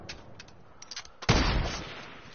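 Gunfire in the video game Fortnite: a few light, scattered shot pops followed by a sudden louder burst of firing that rolls on for about a second, with no talking.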